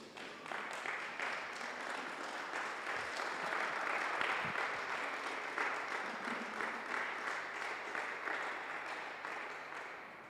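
A church congregation applauds in worship, many hands clapping in a steady, even wash of sound that carries on for about ten seconds from start to finish, with no one speaking over it.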